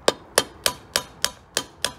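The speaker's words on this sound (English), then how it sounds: "So just get them started with the hammer and then" Seven sharp metallic hammer strikes at a steady rhythm, each a bright knock with a quick decay, knocking bolts out of a Bafang Ultra e-bike motor, close by with no talking.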